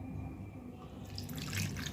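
Rice water is poured over tamarind in a bowl to soak. The splashing pour starts about halfway through, close and steady, after a quiet start with no talking.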